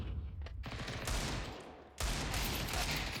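A rapid spray of rifle fire in Counter-Strike on the de_Nuke map comes as dense, continuous shots, in two loud bursts split by a short pause, with no talking.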